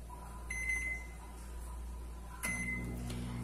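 Microwave oven heating homemade depilatory wax in a microwave-safe pot, a low steady hum running throughout with faint clicks and a short beep-like tone as it starts and shifts, quiet and close.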